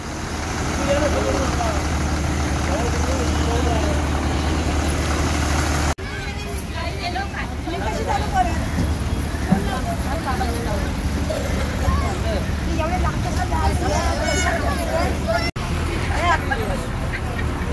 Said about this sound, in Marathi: Mahad S T depot.